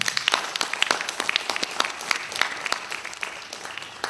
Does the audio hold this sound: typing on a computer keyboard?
no